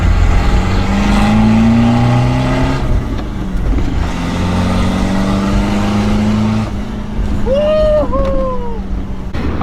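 A Mitsubishi Delica with an EGR delete and turned-up boost revs hard through repeated pulls, its loud engine drone climbing in pitch, dropping at gear changes and climbing again, with a whine near the end.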